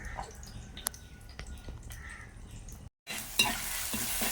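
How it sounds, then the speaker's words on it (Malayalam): Mustard seeds crackling and popping in hot oil in a pan, scattered sharp pops over a steady sizzle, close and fairly quiet, briefly cut before a louder burst of frying. "ഈ ചട്ടിലേക്ക് നമുക്ക് എണ്ണ ഒഴിച്ചതിന് ശേഷം കടുക് പൊട്ടി വരുന്നേ ഉള്ളൂ"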